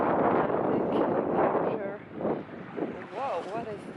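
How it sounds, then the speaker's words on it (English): Strong wind on a winter beach buffets the microphone in loud, rumbling gusts that rise and ease, with a voice briefly sounding near the end. "It's quite windy."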